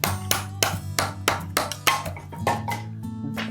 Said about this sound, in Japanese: ハンマーで叩いて刃より下に